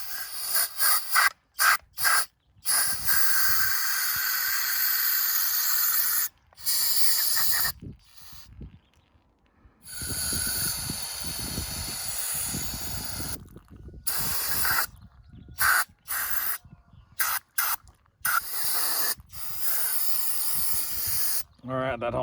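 Carb cleaner sprayed into a part on a 7.3 diesel, heard as loud hissing aerosol bursts of varying length separated by short silences, with a person briefly talking.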